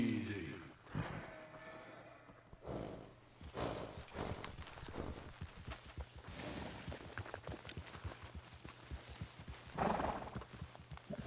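Horse hooves clip-clop on the ground in the Red Dead Redemption 2 video game, with irregular near steps, snorts and a whinny, plus game background sounds and a few thumps.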